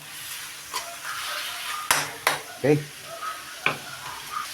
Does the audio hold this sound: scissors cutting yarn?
no